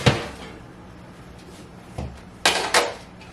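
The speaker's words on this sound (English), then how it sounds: "so let's get them out of the oven." Pan of homemade chocolate eclairs pulled from a kitchen oven: a clunk at the start, then a quieter knock and two sharper metallic rattles near the end as the tray and door are handled, with no talking.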